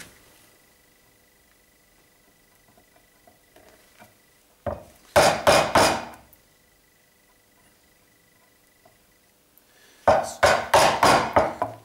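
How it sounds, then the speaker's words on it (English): A chisel chops a notch into a piece of wood clamped in a slightly loose vise, in two close bursts of sharp, rapid knocks and splintering taps separated by a quiet pause. "So you want to chop towards the line slowly."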